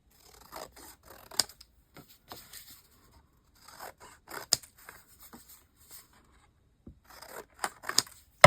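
Scissors snip out part of a paper journal page in short, scattered cuts, close and clear, with quiet pauses between the snips.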